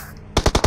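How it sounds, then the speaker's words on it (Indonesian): Gunfire in PUBG Mobile bursts out as four rapid, loud, close shots in a quick even rhythm, with no talk over them. "tapi di sini udah ada tembak-tembakan lucu ya"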